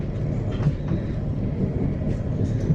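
Train running on the railway into London Blackfriars, a loud steady rumble of wheels and carriage noise heard from onboard, continuous throughout with no talking.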